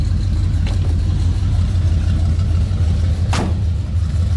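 A 1956 Chevrolet 3100 pickup street rod's 454 V8 idles with a deep, steady rumble, close and loud, with a couple of brief clicks.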